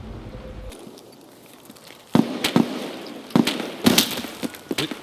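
Shotgun fire in the game Escape From Tarkov, heard as several sharp, loud blasts spaced irregularly over a few seconds after a quieter stretch with a low hum.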